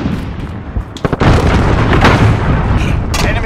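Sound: cruise missile explosion in a video game

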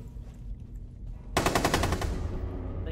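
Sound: gunfire from a big gun in video game Rainbow Six

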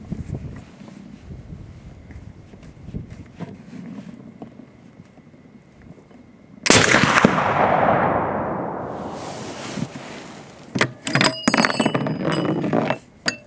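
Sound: Anzio 20mm rifle firing a high velocity round

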